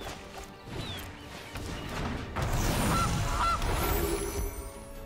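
Goose honk played with a goose card in MTG Arena, a short game effect over a dense bed of clattering and crashing sounds, moderately loud, with no talk.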